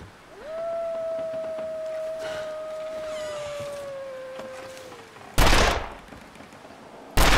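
Gunfire in The Long Dark, two sharp, loud bursts near the end that come after a long, steady, wavering tone resembling a distant wolf howl.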